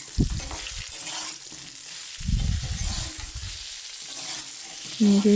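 Fish curry of khoira ilish with potato and brinjal being stirred in a pan after turmeric and salt go in, bursts of sizzling and scraping strokes between quieter stretches of steady frying hiss, close and with no talk.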